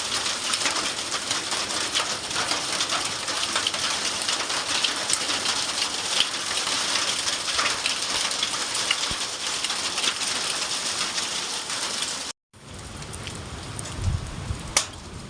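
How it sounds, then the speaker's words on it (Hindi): Heavy rain pours down steadily and loudly with gusting wind during a hailstorm in a mountain village, a continuous dense roar that briefly cuts out near the end before resuming. "इतनी तगड़ी हवाएं और बारिश"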